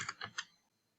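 Three quick bursts of keystrokes clatter on a computer keyboard while a rename command is entered in Command Prompt on Windows, close and crisp, then fading into quiet.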